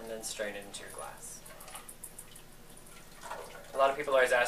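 A blackberry jalapeno martini with basil is strained from a cocktail shaker into a glass, a soft, steady trickle of liquid between stretches of a voice talking.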